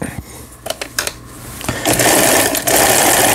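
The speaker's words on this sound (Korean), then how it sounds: "요거 보시는 거 봐와 같이 지그재그 바느질 정상적으로 작동이 되고 있고" A Janome Line17 sewing machine running a zigzag stitch after a gear repair: a few short taps and starts, then a loud, steady mechanical whirring run of the needle close to the microphone.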